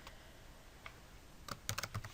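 Fingers tap on a computer keyboard, a quick burst of soft, close keystrokes near the end after a single early click, quiet overall with no talking.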